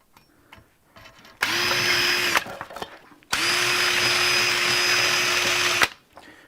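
During a motorcycle exhaust repair, a power drill with a drill bit spins in two loud, steady whining bursts, the second one longer, with small clicks and handling sounds in the gaps.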